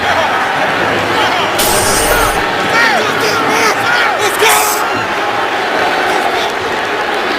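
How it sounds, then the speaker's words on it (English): Football stadium crowd in Baltimore during a Bengals at Ravens game, a loud sustained roar and babble with scattered shouts and whistles, continuous throughout. "the crowd here in Baltimore unhappy with that call that gave Cincinnati that field position"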